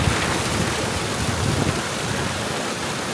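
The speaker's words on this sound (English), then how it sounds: "the water flows out and back into the river." Overflow water from a small pico-hydro plant in a Nepali village pours back into a river, a close, continuous turbulent rush and gurgle with no voices.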